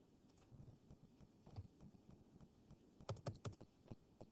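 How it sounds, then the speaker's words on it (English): Quick bursts of typing on a computer keyboard, a scattering of soft key taps followed by a tighter, louder cluster of clicks near the end, heard close and on their own with no talking. "I think I hit too many keys there."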